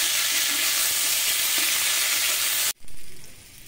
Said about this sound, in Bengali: আমি এই তেলেই ফুলকপি কটা ভেজে নেব, সেদ্ধ করা ফুলকপি ভেজে নেব।